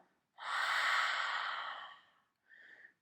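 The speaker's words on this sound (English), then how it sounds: "Exhale through the mouth, releasing the jaw." A long, soft exhale through the mouth during a prenatal yoga routine, a close airy breath that fades out, followed by a shorter second breath.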